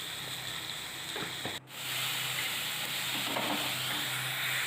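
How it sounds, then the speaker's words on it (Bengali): Parshe fish curry with mustard paste, tomato and salt being stirred in a pan, giving a steady broadband scraping hiss with soft sizzle throughout, briefly dipping mid-way before resuming close and even. "ভালোভাবে নেড়ে নেব।"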